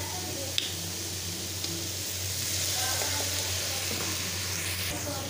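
Chopped onion and cabbage sizzle in a pan as soy sauce goes in, a steady, fairly quiet frying hiss that swells slightly midway, with a couple of faint clicks and no talking.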